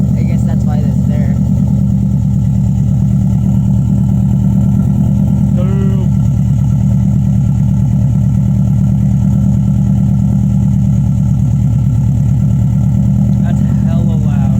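A 2002 Subaru Impreza WRX with a DNA Motoring turbo-back exhaust idles up close, giving a loud, constant low rumble that barely changes for the whole stretch.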